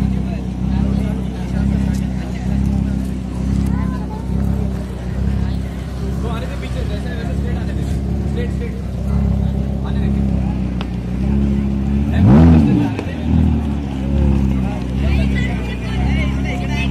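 A Lamborghini's engine rumbles steadily nearby on a street in Pune with a deep pulsing idle, then surges in a brief loud rev near the end while people talk over it.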